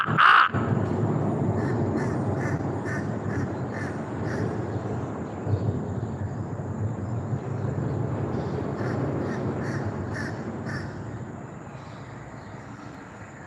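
A crow caws repeatedly on an outdoor morning, harsh calls in short bursts at the start and again later, moderately distant over a constant background rumble.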